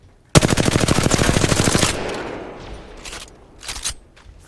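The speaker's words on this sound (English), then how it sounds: "in 5 seconds I will be shooting my gun automatically" Automatic fire from an in-game gun, a rapid burst of evenly spaced shots for about a second and a half, loud and close, trailing into a fading tail with a couple of softer bursts of noise afterward.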